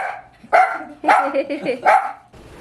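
A dog barks several times in close, loud bursts with short pauses between them inside a home, and the last bark trails off into quiet room noise.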